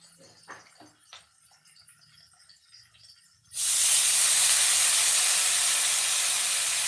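Drumstick (moringa) greens tipped into a pan of frying onions: quiet scraping and light clatter, then a sudden loud, hissing sizzle that bursts in and holds steady to the end.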